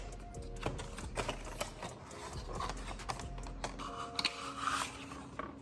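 Hard plastic case of a BMW OEM accessory for a BMW F34 340i GT being handled and opened, a run of close, quiet clicks, taps and rubbing scrapes without speech.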